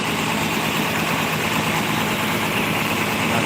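A rear-engined bus idles at a terminal in Pekanbaru with a steady, continuous low rumble and a faint mechanical hum, close by and unbroken.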